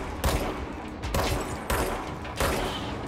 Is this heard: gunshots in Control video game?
yes